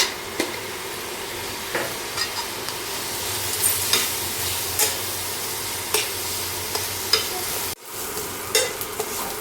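Potato filling with salt and turmeric fries in a pan, a constant close sizzle broken by regular spoon scrapes and taps, one brief dropout near the end.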